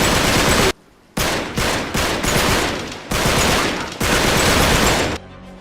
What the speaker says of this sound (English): When you shoot with an AK-47 in Uncharted 3, it sounds like this.